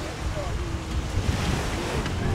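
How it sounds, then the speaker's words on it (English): Waves lap on Lake Kivu in a steady rushing wash, heavy with wind noise on the microphone, with faint voices in the background. "The waves of water from the lake."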